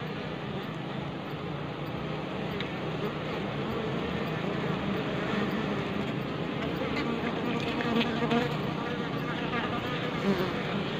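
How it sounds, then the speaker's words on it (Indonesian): Many Asian honey bees (Apis cerana) buzz continuously close by at a hive box, a dense steady hum that swells slightly toward the end, with faint background noise. "di sini juga ada lebah itu yang bawa dari pipolen ya di kantong kakinya."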